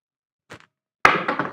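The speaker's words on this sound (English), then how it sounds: "Dice are out." Dice tossed across a craps table, a faint light tap followed about half a second later by a louder clatter as they land and tumble, alone without talk.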